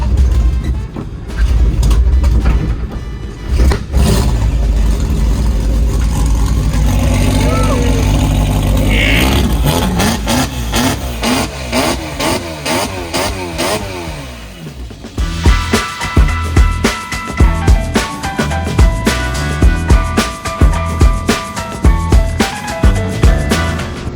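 A Chevy engine cranks and fires, then revs hard and runs rough in high gear with a fouling misfire, loud and close, with the engine note rising and falling; people talk over parts of it.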